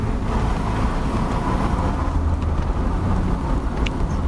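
A BMW E30 with a ZF 4HP22 automatic gearbox runs with light throttle blips between shifts, heard as a steady low engine rumble from inside the car.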